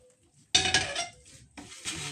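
Onions and other ingredients sauté in a pan for a smoked fish dish, making two bursts of close sizzling and clattering with a quiet gap between them.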